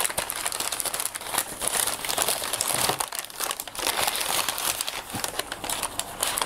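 Packaging crinkles and crumples continuously at close range while a Ledger Nano S hardware wallet is unboxed, dense crackly rustling with no speech.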